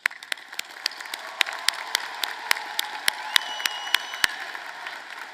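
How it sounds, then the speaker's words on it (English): Scattered applause at a spring commencement ceremony for community workers and volunteers, with distinct individual claps popping sharply out of a softer background of crowd clapping across the whole stretch. "Please join me in showing our appreciation with a round of applause for their efforts."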